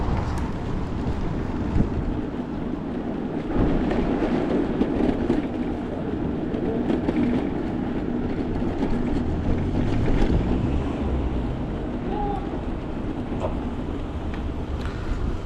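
A train runs along a railway line with a steady, continuous rumble and rush for the whole stretch, mixed with wind buffeting the microphone and no voices.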